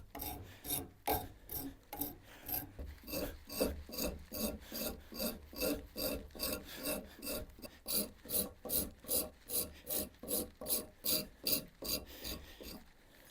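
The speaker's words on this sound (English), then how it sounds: "I'm just going to use a rasp to just clean up those corners a little bit." Hand rasp filing the corners of a wooden workpiece, in a steady run of about thirty rhythmic rasping strokes that speed up toward the end, close and clear with no talking.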